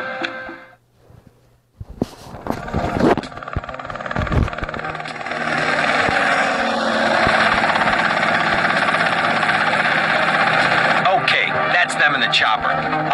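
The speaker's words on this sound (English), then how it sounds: "Chopper." Helicopter in the video game GTA Vice City: a steady, loud rotor and engine drone builds after a few seconds of scattered noises and then holds, with voices talking over it.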